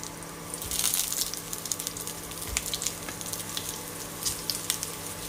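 Mango pieces fry in hot coconut oil, giving a close, steady crackling sizzle with small bursts of spitting and popping over a low hum.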